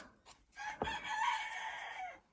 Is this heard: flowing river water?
no